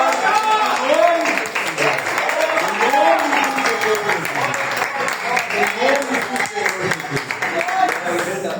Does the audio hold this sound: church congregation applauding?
yes